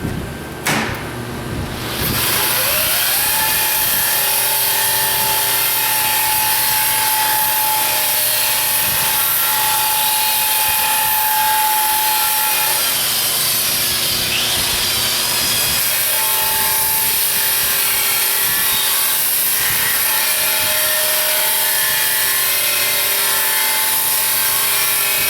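A tool scrubs the bead of a tire during a patch job, giving a steady, close scraping and rubbing texture that runs continuously, with a few brief louder strokes and no talking.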